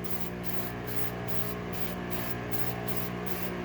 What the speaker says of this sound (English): I challenge any of you guys to spray paint